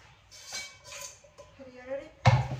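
A deep metal cooking pot handled in a home kitchen, light clanks and scrapes followed by a sharper, louder clatter near the end, with a voice speaking over it.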